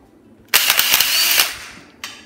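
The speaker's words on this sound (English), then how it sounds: "Some projects require 20 volts of lithium ion, 3-speed hammer drill," A 20-volt lithium-ion 3-speed hammer drill whirs in a loud, close burst lasting about a second, then a short second blip follows.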